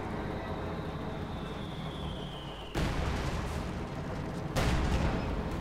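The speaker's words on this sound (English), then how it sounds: "Guardsmen there coming under fire." Battlefield combat in the World War II strategy game Company of Heroes 2, with a dense, continuous roar of gunfire and artillery that jumps louder in two abrupt steps, with no voices.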